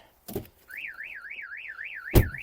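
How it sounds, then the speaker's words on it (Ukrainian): A 2009 Hyundai Tucson's car alarm goes off nearby with a loud, rapidly warbling siren tone, framed by two sharp bangs, one before and one after. "Сигналізація спрацювала."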